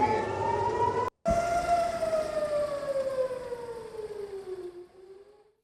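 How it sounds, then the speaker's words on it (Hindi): An air raid siren wails in Haifa, Israel, a long rising and slowly falling electronic tone, loud and alone, broken by one brief dropout before it winds down and fades. "इजराइल के हाइफा में फिर बजने लगे सायरन"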